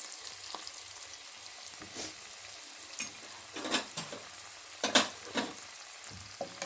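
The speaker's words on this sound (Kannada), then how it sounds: "ಈಗ ಇದನ್ನು ರೋಸ್ಟ್ ಮಾಡ್ಕೊಬೇಕು." Paneer roasting and being stirred in a pan, a steady soft sizzle under intermittent scraping and clinking of a spoon against the pan, close and moderately quiet, with no talking.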